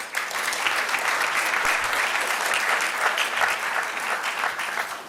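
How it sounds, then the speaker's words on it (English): An audience at an awards dinner in Beverly Hills claps, sustained and dense applause from many hands, fairly close and steady throughout. "Well, if you're clapping now,"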